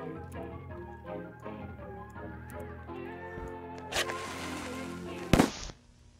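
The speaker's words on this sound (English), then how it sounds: "Fireworks are right here." In the video game Escape the Backrooms, fireworks go off at a water park level with a sharp burst and a loud crackling explosion near the end. Game music and sounds play underneath, and players talk beforehand.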